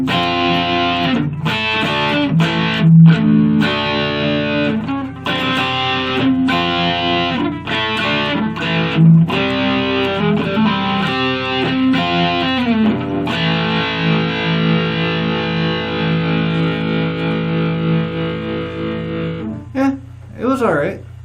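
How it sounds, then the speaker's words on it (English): Electric guitar played through a Valeton Coral MDR pedal with distortion engaged, chords and riffs ringing with sustained driven tone for about twenty seconds, loud and close, with a brief pause near the end. "I'm going to hit it with a little bit of distortion to see what we can do here."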